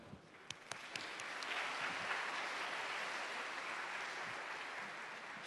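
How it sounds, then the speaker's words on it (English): An audience at an indoor air conference plenary session applauds Professor Chen, a sustained wash of steady clapping after a few sharp opening claps, moderately distant and even in level. "Let's give him one more round of applause."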